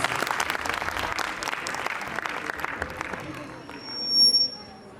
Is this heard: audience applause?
yes